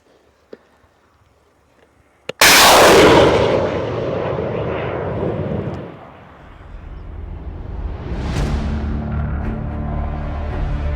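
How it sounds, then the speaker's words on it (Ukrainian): A faint click, then one sudden loud artillery boom that rolls and echoes for several seconds before fading into a low rumbling hum. "Зараз був перший постріл"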